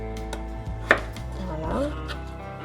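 A knife slices through chicken on a cutting board for a Japanese chicken curry, with a soft sawing cut and one sharp tap of the blade against the board, close and alone.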